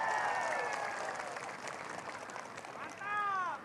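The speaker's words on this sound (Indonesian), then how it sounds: "Tepuk tangan untuk beliau." An audience at a NasDem party event claps in a sustained burst of applause, with tonal music or voices ringing over it and a fresh swell near the end.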